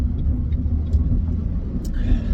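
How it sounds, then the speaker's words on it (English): A car driven off on a short test run after a cheap DIY clutch repair, its engine a steady low rumble close by, with faint voices and small knocks over it. "go for a short little drive here."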